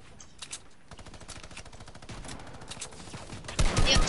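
A minigun in a PS4 shooter fires in a dense, rapid rattle that keeps going and grows louder and heavier near the end, without speech over it.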